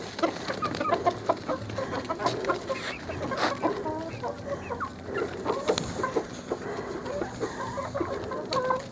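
Hens and a rooster in a poultry yard cluck continuously, with many overlapping short calls at a steady moderate level and no talk over them.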